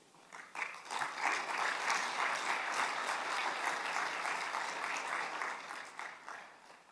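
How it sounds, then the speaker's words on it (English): Delegates at an international tax administrators' annual meeting give a sustained round of applause that swells quickly and holds steady before gradually thinning out. "Let's give him another round of applause, please."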